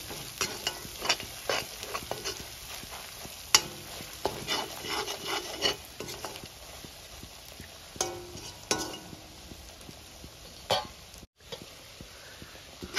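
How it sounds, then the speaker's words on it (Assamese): Steady frying of spices and onions in oil in a pan, a soft continuous sizzle broken by scraping and stirring clatter from a utensil, close by and without voices. "এইখিনিকো তেলত ভালকৈ মিহলাই অলপ সময় ভাজি লম"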